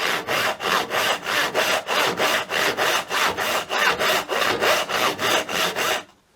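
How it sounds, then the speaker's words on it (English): A panel hand saw rip-cuts through wood in steady back-and-forth strokes, about three per second, rasping loudly and close until it stops. "pull towards you a couple of times to start the saw, and then you can start sawing like this"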